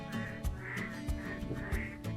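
Toads croaking among lily pads on a Jeju Olle trail walk, a quiet repeated series of nasal, duck-like quacking calls at a steady rhythm with a faint outdoor background.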